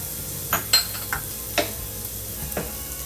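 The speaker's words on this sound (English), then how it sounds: "I'll fry it till it gets little golden in color." Green peas and grated coconut stuffing fry in a pan on a low to medium flame, a soft steady sizzle broken by several distinct stirring scrapes of a spoon against the pan, close by.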